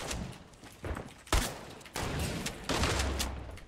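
Gunfire in a Fortnite-style shooting game, with several bursts of rapid shots at uneven intervals, fairly faint and with no talk.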